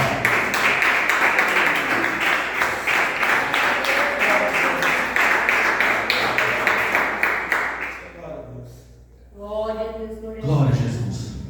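A church congregation claps their hands in praise, a loud, steady rhythmic beat of many palms that fades out, followed by a voice speaking alone.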